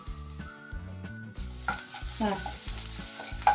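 Curry leaves tossed into a hot pan of frying carrot raita tempering, bursts of sizzling and crackling with stirring scrapes, close and moderately loud, no talk.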